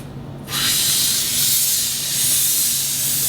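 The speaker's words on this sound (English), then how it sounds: "as soon as I touch that, it's gonna start steaming" A handheld steam cleaner bursts on after a brief quiet moment and releases a loud, steady hiss of hot steam that holds, with slight swells in strength, until the end.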